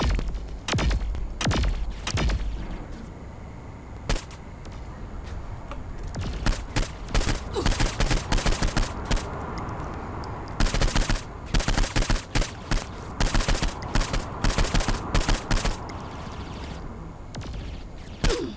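Rapid weapon fire in Saints Row IV, dense bursts of loud shots repeating throughout with short pauses, mixed with game music and impact thuds.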